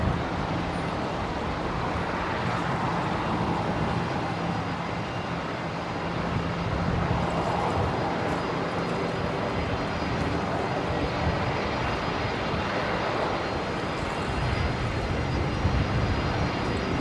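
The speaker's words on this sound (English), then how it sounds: "Now, aircraft coming in on 19 left, Qantas Link 1924 from Hobart." A QantasLink aircraft arriving from Hobart lands on runway 19 left at Brisbane Airport, a continuous broad engine roar heard from a distance that holds steady, mixed with faint traffic rumble.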